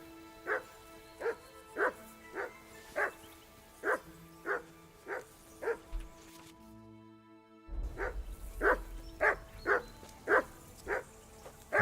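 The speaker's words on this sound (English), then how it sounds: "Call off that mutt of yours." A dog barks in the video game Kingdom Come: Deliverance II. Evenly spaced, moderately loud barks come about twice a second, stop briefly, then resume amid a fuller layer of game background sound.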